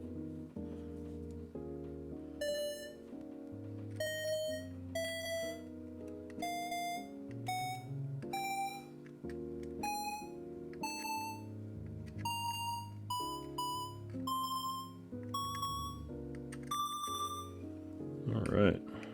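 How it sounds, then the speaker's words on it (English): A TM680 keyboard running the VIA configurator plays a long series of clear electronic beeps, each note stepping upward in pitch at a steady pace, fairly quiet, with a voice faintly present. "It's all the good booping and beeping noises we like to hear when we fire up VIA."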